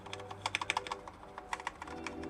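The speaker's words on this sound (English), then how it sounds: "This is fairly a scratchy keyboard." Keys clack on a scratchy Singa Unikorn mechanical keyboard, a quick burst of sharp keystrokes followed by a short pause and a few more presses, close and fairly quiet.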